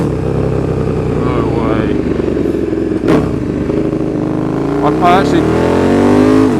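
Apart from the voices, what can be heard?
KTM 1290 Super Duke R motorcycle loud exhaust revving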